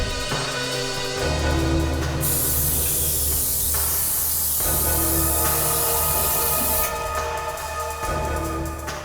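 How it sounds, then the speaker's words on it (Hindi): A spray can hisses steadily onto an air conditioner unit, a loud continuous close spray lasting several seconds with slight breaks, over a background tonal drone. "जरा इस पे स्प्रे करना।"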